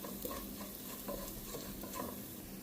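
Coriander powder and mild chilli powder sautéed in an oil-filled pan for rasam, with a steady close sizzle and repeated scraping stirs throughout.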